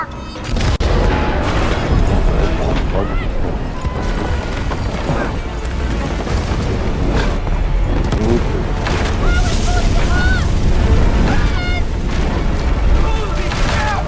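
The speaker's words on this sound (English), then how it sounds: "Holy cow! That's a big explosion!" A large explosion in the co-op video game It Takes Two, with heavy booming rumbles and crashes over a continuous, loud game soundscape, and people talking through it.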